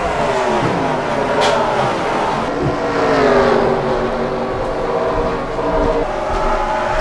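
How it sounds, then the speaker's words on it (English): Race cars on a track in a racing video game, several engines droning loudly and steadily together, with pitch shifts as they rev and pass, no speech over the pack. "He's not going to hold the lead for long because there goes Sleppy to the inside in the 88"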